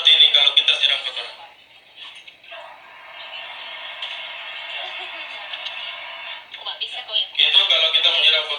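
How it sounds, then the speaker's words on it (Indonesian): An airplane vacuum toilet flushes in a cabin simulation: a loud, sustained rushing hiss lasting several seconds, with people talking before and after it. "kira-kira bunyinya seperti ini kalau kita siram kotoran"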